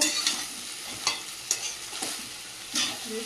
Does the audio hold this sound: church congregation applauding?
no